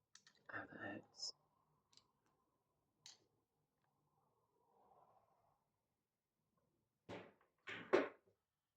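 A door closer on a door in a quiet indoor space: a few soft clicks and ticks, then a pair of closer, louder thunks as the door settles shut near the end, with near silence between them.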